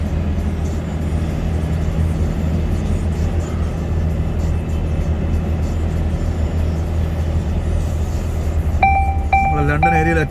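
Steady road traffic rushing over a bridge on a busy motorway near London, a continuous low roar of passing vehicles, with a brief tonal whine near the end.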